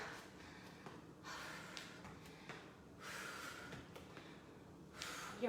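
Heavy breathing during a circuit workout, with several loud rhythmic gasping exhales and snorts repeating about every second or two, close to the mic and with no speech over them.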